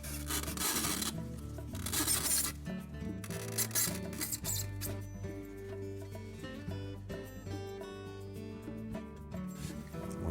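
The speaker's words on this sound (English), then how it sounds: "Now we're going to remove this styrofoam block. And take caution when pulling that up out of there." Styrofoam block pulled from a friction fit in a GE refrigerator's freezer floor, giving close, loud squeaky rubbing and creaking that rises at the start and sweeps in pitch before easing off.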